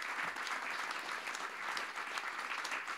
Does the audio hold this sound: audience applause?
yes